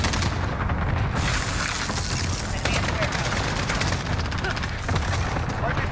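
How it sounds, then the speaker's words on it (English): Cluster strike explosions in Call of Duty Modern Warfare, a dense continuous barrage of booms and crackling blasts that stays loud for the whole stretch, with a voice talking faintly beneath. "Cluster strike away."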